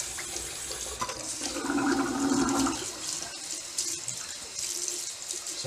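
Water runs steadily from a bathroom sink tap for a cold rinse after a shave, a continuous splashing stream that swells briefly in the middle and carries on with no talking.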